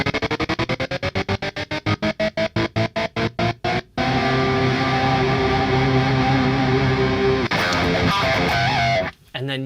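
Guitar played through a Graphene effects pedal: a rapid rhythmic stutter chopping the notes for about four seconds, then a sustained reverb-washed tone, shifting to a brighter octave-up layer before cutting off.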